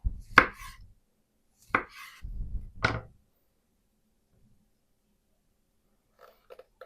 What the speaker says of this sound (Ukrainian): Печериці нарізаємо слайсами.